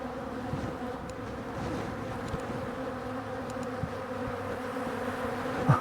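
A dense, steady swarm of honeybees hums around a beekeeper at an open hive, the continuous buzzing close and moderately loud with occasional individual bees passing nearer, and no talk.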